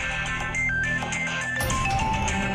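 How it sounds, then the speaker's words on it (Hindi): A mobile phone ringtone plays a short electronic melody of bright repeating tones, fairly quiet against a steady indoor background, with no talking during it. "सार्थक का फोन"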